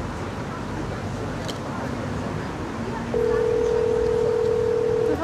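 A telephone dialing or dial tone rings out as a steady, loud electronic tone for about two seconds near the end, over outdoor street noise and traffic in New York City, after softer background murmur.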